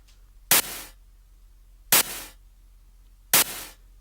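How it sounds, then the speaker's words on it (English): White noise sample used to reinforce a snare drum: three short, identical bursts of hiss spaced evenly about a second and a half apart, each with a sharp attack and faded tail, loud and alone. "Here is what the white noise sounds like."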